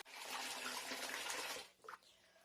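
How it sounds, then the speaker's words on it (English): Hot water runs from a sink tap and fills the basin in a steady, close rushing stream that cuts off abruptly, followed by a few brief splashes and drips. "turn your sink to the hottest water"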